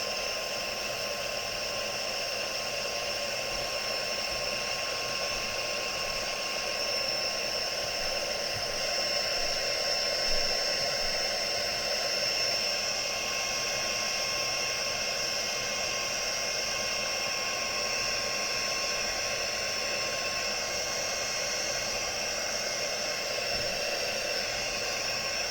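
A hair dryer blows hot air steadily to dry glue on a handmade gift-card envelope, a constant whining hum that stays even and moderately quiet throughout with no talking.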